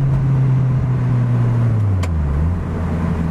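Engine of a Lotus Elise Turbo sports car while driving, a loud steady low drone heard from inside, pitch sliding gently down, with a brief click partway through and no talk.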